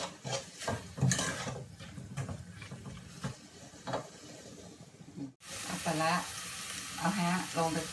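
Ingredients stir-fried in a pan for a beef and mustard-green curry, with steady close sizzling and clattering stirring throughout, and a person talking over it in the second half.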